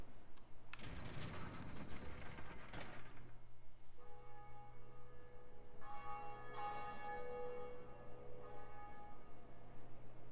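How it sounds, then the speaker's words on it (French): Inside a SoulsVania video game, a church bell rings a few clear, resonant tones over a steady low hum and soft mechanical ticking, after a brief noisy burst at the start. "Et là, tu vas sonner la cloche."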